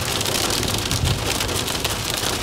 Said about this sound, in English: There's hail everywhere. It's literally hailing.